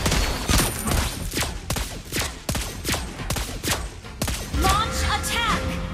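Lesley's rapid gunfire in Mobile Legends, a dense run of sharp shots over busy in-game battle noise, with game announcer voices and effects near the end.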